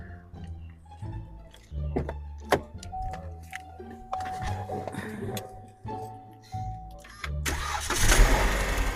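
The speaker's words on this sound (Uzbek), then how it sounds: "qani qo'lingiz tekkan mashinani yurgizib ko'raylikchi bir." A car engine cranks and catches, then settles into a close, steady idle with a few clicks and knocks around it, and ends in a louder rush of noise.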